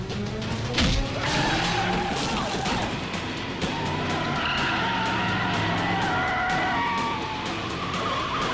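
A car skids with screeching tires and roaring engine during a chase, loud and close, ending in a drawn-out squeal as it slides to a stop, with faint voices mixed in.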